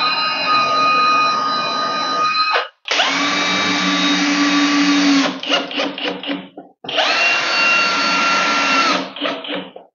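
A power drill pre-drills screw holes in timber for Timberfix 4x30 screws while building an under-stairs pull-out drawer, with three loud sustained whirring bursts separated by short pauses, each tailing off as the motor spins down.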